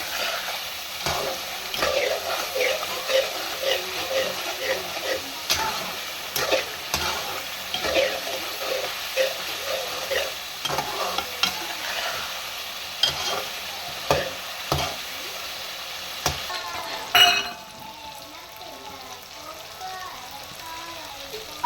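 Chicken karahi stir-fried in a kadhai, a busy run of scraping and stirring strokes over a steady sizzle, with brief speech toward the end.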